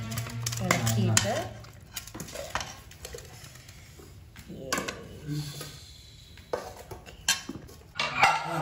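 A ladle clinks and scrapes against a pot as gravy is stirred and served, giving scattered metallic knocks between stretches of people talking.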